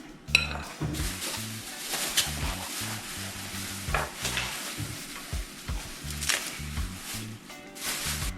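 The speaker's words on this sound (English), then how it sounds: "Give it a really good mix." Snapper ceviche is mixed vigorously in a bowl, with repeated clattering utensil scrapes and knocks in an uneven rhythm. The sounds are close and fairly loud, with no talking.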